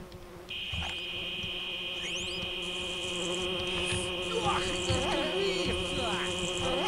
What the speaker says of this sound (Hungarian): És ezek az idegesítő zümmögő hangok.